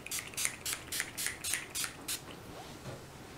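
All-nighter makeup setting spray is pumped in about eight quick, evenly spaced hissing bursts close to the mic, followed by faint handling noises.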